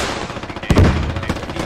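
Weapons fire in the SquadOps military game, with one loud, close shot or blast and a brief rumbling tail, followed by fainter shots in the distance.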